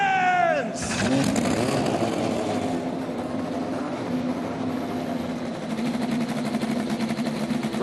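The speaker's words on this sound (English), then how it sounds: "Drivers, start your engines!" Indy NXT race cars at the Milwaukee Mile fire up and rev, a loud engine rumble rising after a brief rising tone, with a crowd of cars idling and revving together and announcer talk over it.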